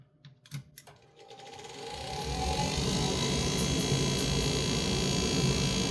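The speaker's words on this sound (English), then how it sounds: "That's the induction motor you hear" Induction motor on a Goodman gas furnace spins up after a few knocks, rising into a steady, loud mechanical whir with a rattling buzz; the motor is worn and needs replacing.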